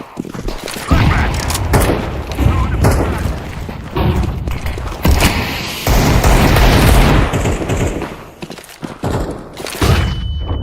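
Repeated booms and gunfire bursts from a Counter-Strike 2 match, including a thrown grenade going off, loud and dense for most of the stretch with a thudding low end; voices appear faintly in the mix.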